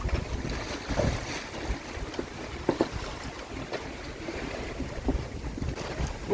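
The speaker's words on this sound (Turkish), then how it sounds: "Dalgalar da hep bordodan. Sürekli dalga patladı ama burası kupkuru kaldı." Waves break against the hull of a sailboat on the open Pacific, a steady wash of water under heavy wind and microphone buffeting, with no voices.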